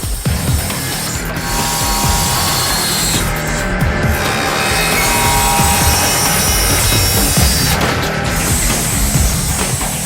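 Rapid, rhythmic rasping strokes of a hand saw cutting a wooden spoon handle, loud and close, continuing steadily with brief catches and scrapes.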